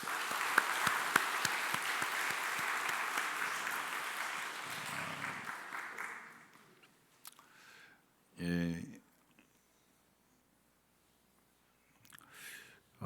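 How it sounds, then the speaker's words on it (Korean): A church congregation at a Sunday service applauds to encourage the children and youth, a loud sustained wave of clapping that fades out after about six seconds, followed by quieter room sounds and a brief voice. "우리 격려의 박수 한번 쳐주세요."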